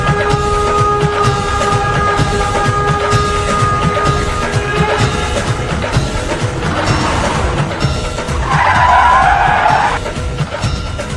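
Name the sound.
vehicle braking and coming to a stop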